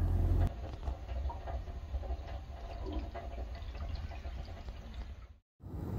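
A boat head (marine toilet) tank flushes out fast, a steady close rush of draining water running for about five seconds before cutting off abruptly into a brief silence.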